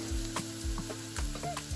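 Onions, ginger and garlic frying in a pot, a steady sizzle with regular spoon knocks and stirring scrapes at a close, moderate level, free of speech.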